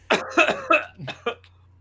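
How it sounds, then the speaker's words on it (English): Someone coughs in a rapid burst of several harsh, close, loud hacks, with a low steady hum underneath. "I can't laugh and cough at the same time."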